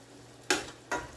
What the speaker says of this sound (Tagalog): Tapusin po natin ang pagluluto ng pasta. Lagyan po natin ng kaunting tubig.